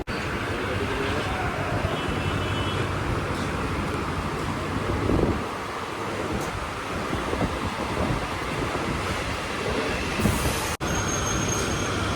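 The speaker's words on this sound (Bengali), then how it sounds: "বৃষ্টির মধ্যে দিয়ে আমাদের ট্রেন চলছে।" A train running steadily through rain, with a continuous close rumble and rattle of wheels on track and a faint squeal near the end.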